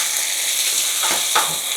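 Green and red peppers frying with cassava in a pan, a steady close sizzle with two quick stirring scrapes, no talking.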